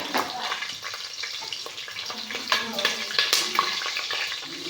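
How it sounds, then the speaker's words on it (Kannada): Green chillies fry in hot ghee for party-style ghee rice, a lively crackling sizzle up close, broken by stirring scrapes and a few sharper spatters. "ಇದಕ್ಕೆ ನಾನು ಮೆಣಸಿನ್ಕಾಯಿ ಹಾಕೊತಾ ಇದ್ದೀನಿ ಚೆನ್ನಾಗಿ ಫ್ರೈ ಆಗಲಿ"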